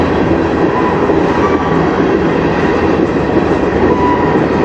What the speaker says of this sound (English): Oh, looks like two locomotives and a slug.